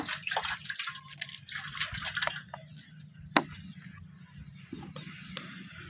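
Water trickles and splashes into a simmering village-style tilapia fish curry, then hisses and bubbles as it simmers, with a sharp clink partway through.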